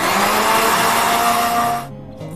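An electric blender grinds about four small chopped tomatoes with a loud, steady high whir that runs unbroken, then winds down and stops near the end.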